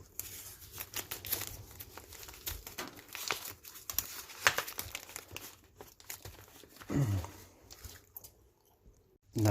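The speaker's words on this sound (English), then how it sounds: "I'm just going to take some masking tape. Just going to tape this to the bottom." Masking tape is torn from the roll and pressed onto the base of a 6-inch firework can shell, heard close up as soft crinkling, rustling and tearing sounds in irregular bursts.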